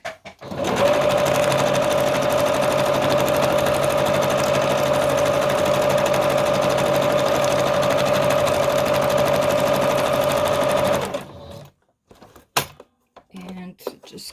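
A sewing machine runs steadily for about eleven seconds while stitching a fabric collage in a home workshop, a loud, even motor whir that cuts off, followed by a few faint thunks and handling sounds.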